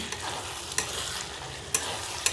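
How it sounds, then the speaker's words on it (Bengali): A ground ginger, garlic and onion spice paste frying in a pan, a steady soft sizzle broken by a few sharp stirring scrapes. "আদা রসুন পেঁয়াজ সব বেটে এখন মশলাটাকে আমি ভাজছি"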